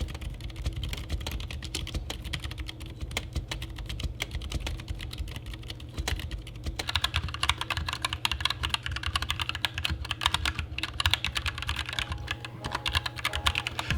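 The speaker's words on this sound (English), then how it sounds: "Man, I really can't explain what typing on these silents feels like." Steady, muted typing on a mechanical keyboard with silent switches, soft, dull keystrokes in a continuous flurry, close up and without speech.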